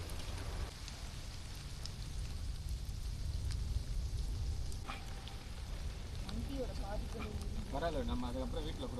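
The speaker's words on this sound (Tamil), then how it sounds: "மழை நல்லா பெய்யுது" Heavy rain falls steadily on a hilltop Shiva temple, a dense continuous wash of drops close around, with some voices and chanting-like tones rising briefly toward the end.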